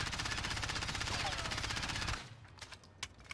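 Rapid automatic gunfire during a recoil test in Warzone, a dense sustained burst lasting about two seconds that cuts off abruptly into quieter scattered sounds.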